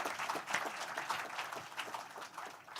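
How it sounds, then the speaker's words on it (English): Sustained applause from an audience at a public forum: dense, steady clapping fills about three seconds with no talking over it. "I want to give them a round of applause."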